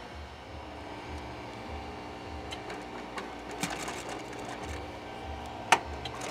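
A sewing machine stitches a white-threaded tuck and roll seat cover for a 1947 Ford, a soft steady mechanical whir with faint rhythmic thumping and a few small clicks, no talking.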